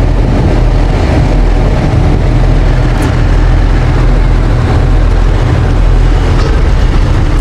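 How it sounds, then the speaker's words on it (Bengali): Heavy ferry engine running while the vessel approaches the ghat, a loud, constant low-frequency drone and rumble that fills the whole stretch without any break. "দেখেন ইঞ্জিনের ভারী কত স্পিড।"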